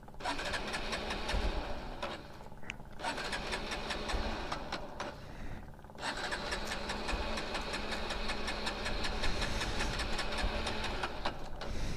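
A motorcycle engine labors through a difficult start on a high mountain road, a continuous rough, knocking mechanical drone with a brief dip partway through, loud and close, with no talking.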